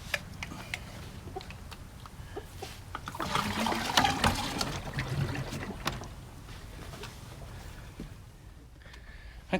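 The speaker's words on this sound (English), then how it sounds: "let's go fill this up with water" Water pours and splashes into a jug for a farm chicken watering system, a steady gushing trickle that swells in the middle and then eases, fairly close, with no talk.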